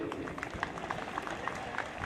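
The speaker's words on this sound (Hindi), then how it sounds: "एक बार तालियां बजा दीजिए" An audience applauds at a police passing-out parade at PAC Aligarh, producing a steady patter of many hands clapping that sounds faint and distant throughout.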